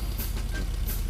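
A cartoon tow truck driven by Grandpa Dog pulls Peppa Pig's car toward his garage. A low engine drone runs under repeated high electronic beeps, steady and close.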